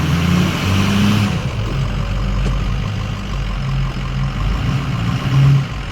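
A Ford pickup truck's engine revs hard in reverse while straining to pull out a tree, a loud droning roar that rises and dips in uneven surges before a final push.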